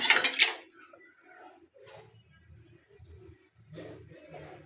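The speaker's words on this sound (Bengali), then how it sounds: "ডিম দিয়ে ওল রান্না আমি এখন আমার মেয়ের জন্য প্লেটে দিব ডিমটা" Cutlery clinks against a plate as egg and cooked elephant foot yam are served, with a sharp clatter at the start followed by softer scraping and someone speaking in between.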